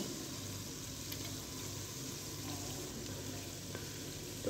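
Onion, garlic, ginger and green chili fry in oil for a green curry, a soft, steady sizzle with faint stirring clicks, quiet and close, without speech.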